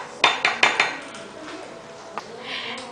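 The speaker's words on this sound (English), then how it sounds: "I'm just going to mix this together" A sauce of sesame oil, sugar and cornstarch being stirred in a small bowl, with a quick run of sharp utensil taps and clinks against the bowl, then softer, quieter scraping.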